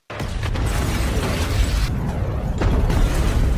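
A missile strikes a bus: a loud, rumbling blast with crackling debris and mechanical clatter continues for several seconds, dense and close with no voices.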